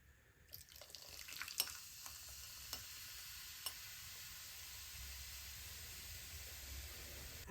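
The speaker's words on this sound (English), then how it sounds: "Nice sizzle." Leftovers frying in a home kitchen, a steady close sizzle running throughout, with a few light clicks and taps of stirring or utensils on the pan.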